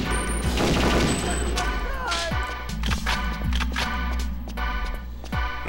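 Gunfire in Perfect Dark HD: a run of sharp, loud shots and impacts over a constant low game hum, with a voice talking over part of it.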